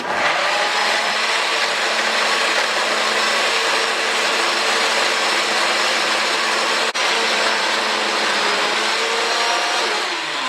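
A blender on its liquefy setting purees hot peppers with plain white distilled vinegar for a fiery Caribbean pepper sauce. A loud, steady motor whir runs unbroken for about ten seconds, with a brief dip near the end and no talking.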